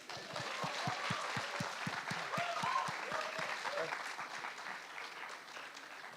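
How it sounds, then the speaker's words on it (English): An audience at a book talk breaks into a round of applause, a steady patter of claps that gradually thins out, with some voices audible beneath it. "That's a big round of applause."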